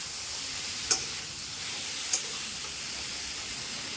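Kadhai paneer masala sizzles in a hot pan as a steady, faint frying hiss, broken by two soft clicks of stirring.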